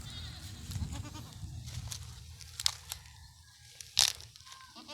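Goats on a farm bleating, a few short cries over quiet rustling and crunching, with one louder call near the end.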